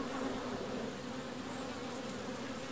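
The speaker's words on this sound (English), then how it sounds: "what a nucleus colony needs are plenty of nurse bees" Honeybees in a nucleus colony make a dense, continuous close-up buzz with a steady hum that holds throughout.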